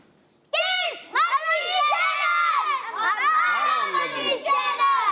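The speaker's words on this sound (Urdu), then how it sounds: "یہ نعرہ ہے بھائی, نعرہ نعرے والے انداز میں لگے گا." Group of children chants a slogan in unison on a kids' Islamic channel program, their bright voices shouting loud, rhythmic phrases close up after a brief quiet start.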